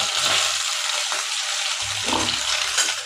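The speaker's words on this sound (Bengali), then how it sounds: "এবার আমি সেই তেলেই ভেজে নেব সোয়াবিনগুলো।" Soybean chunks fry in hot oil left over from frying potatoes, giving a steady, bright sizzle with light stirring, close up and uninterrupted by talk.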